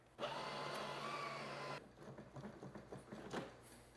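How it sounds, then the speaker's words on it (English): Ninja Luxe Cafe espresso machine grinding coffee beans into a portafilter, a steady, loud whirring grind for about a second and a half, then quieter clicks and knocks as it stops. "Grab your portafilter, pop it in here,"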